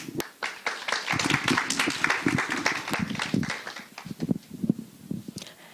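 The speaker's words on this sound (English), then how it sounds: "please warmly welcome Ms. Lushana Akhtar with a big round of applause" Scattered applause rises from a modest audience welcoming a speaker at an international career fair, uneven claps building and thinning over several seconds, fairly quiet and somewhat distant.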